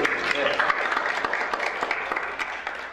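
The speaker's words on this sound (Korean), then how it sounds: "박수 한번 해주시죠, 우리." Brief burst of audience applause at a live music show, close, continuous clapping that carries steadily for three seconds, with voices faintly underneath.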